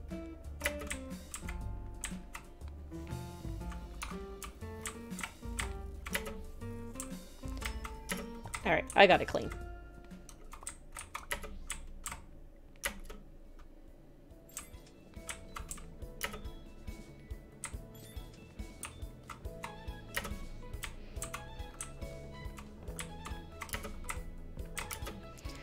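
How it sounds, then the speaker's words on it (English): Loud, clacky computer keyboard typed in rapid irregular bursts throughout, close and prominent, while a voice talks over it and music plays underneath. "I have a very clacky keyboard"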